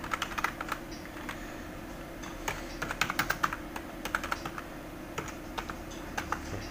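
Keys clatter on a computer keyboard in irregular bursts of close, crisp clicks, fairly quiet over a steady low hum.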